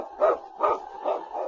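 Sled dog barks in an old radio drama, four even, spaced barks ringing clearly with a slightly thin, broadcast-like tone and no talking over them.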